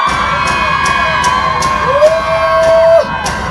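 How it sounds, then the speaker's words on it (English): At a St Catherine carnival event, a loud crowd of women screams and whoops over pounding music with a regular beat. One sustained, rising shriek stands out near the end. "ladies, let me hear the scream"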